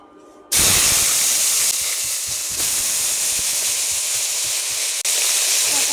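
A sudden loud sizzle as potato and eggplant hit hot oil in a wok, then continuous crackling and hissing of frying, with brief stirring scrapes.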